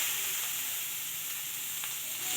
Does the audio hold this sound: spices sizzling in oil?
yes